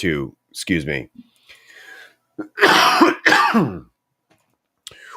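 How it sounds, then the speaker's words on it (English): A person coughs and clears their throat several times in short, harsh bursts, with quiet pauses between them. "he just did his cough and he muted his mic"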